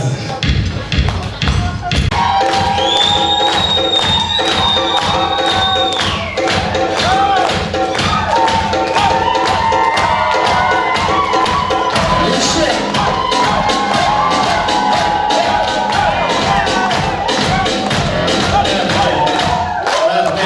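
Guests at a 20-year class reunion party shout and cheer together in a loud, continuous crowd roar, with thumps and claps mixed in and voices carrying throughout.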